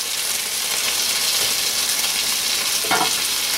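Chicken wings fry in a pan with a steady, close hiss and crackle that stays constant throughout, and a brief stir or clink comes near the end.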